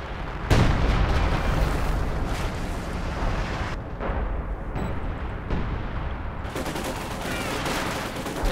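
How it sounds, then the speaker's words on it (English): Sector artillery barrage in the Company of Heroes 2 strategy game, a dense continuous rumble of shell blasts and gunfire layered thickly throughout, loud and chaotic with no clear gaps. "a bit of sector artillery going in"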